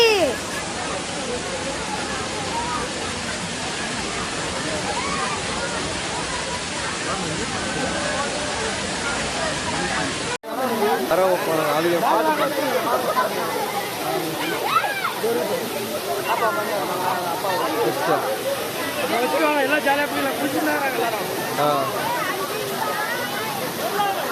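A waterfall in a forest setting pours in a loud, steady rush of falling water that continues throughout. Splashing and the distant babble of people blend into the roar.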